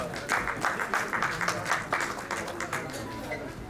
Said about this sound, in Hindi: जोरदार तालियों से डॉक्टर कमल सर का स्वागत करें।